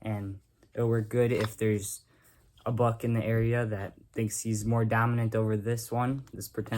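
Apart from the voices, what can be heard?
No everyday noise stands out behind the speech.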